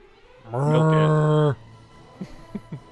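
A cow moos once in the video game Dragon Quest VIII, a single sustained, tonal low moo lasting about a second, followed by faint quiet sounds.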